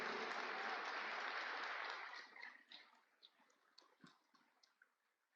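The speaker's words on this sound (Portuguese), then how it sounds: "Aplauda ao Senhor" Church congregation applauding during a sermon: a loud, dense burst of clapping that dies away after about two seconds into a few scattered late claps.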